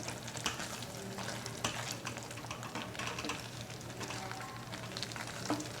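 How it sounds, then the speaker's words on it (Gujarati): Garlic and fenugreek greens frying in oil in a pan, with a continuous soft sizzle broken by scattered light scraping and stirring clicks, fairly quiet and close. "ભાજીને આપણે આ રીતે થોડીવાર ચડવા દઈશું જેથી તેલ બધું જ ઉપર આવી જાય"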